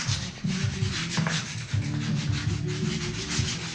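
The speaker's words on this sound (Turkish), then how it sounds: "Evet bütün parçaları zımpara, zımparalayalım güzel." Rhythmic scratchy rubbing of sandpaper on wooden toy parts, close up, in quick repeated back-and-forth hand strokes with no talking.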